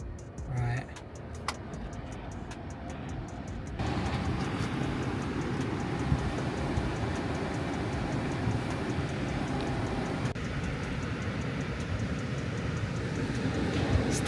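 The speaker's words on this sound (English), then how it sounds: "Testing the aircon." A Tesla Model S air conditioning system runs during a test, producing a steady, loud broadband whoosh of blower airflow that jumps up in level after a few seconds and then holds constant.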